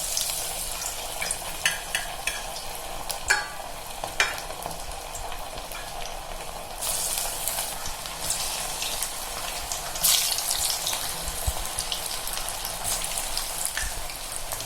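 Cauliflower 65 pieces dropped into hot oil for deep-frying, a continuous crackling sizzle with scattered sharper pops and bursts, close and fairly loud, with no talking.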